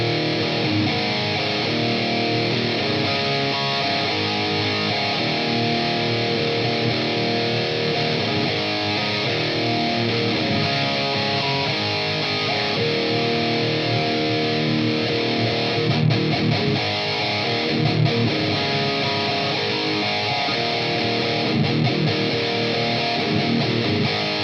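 A thick, distorted metal guitar tone plays through a Diesel amplifier with reverb added, a dense wall of heavy riffing held loud and continuous throughout.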